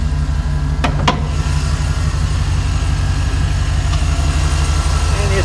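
A 2012 Chevy Silverado Z71 with a 5.3 liter V8 idles steadily with a deep, even low rumble from its exhaust, held constant throughout, with a couple of brief clicks near the start.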